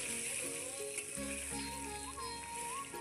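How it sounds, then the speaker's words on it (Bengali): Potatoes seasoned with salt and turmeric fry in a pan with a steady, soft hiss and sizzle, continuous and fairly faint throughout. "আলুগুলো আমি লাল লাল করে ভাজবো।"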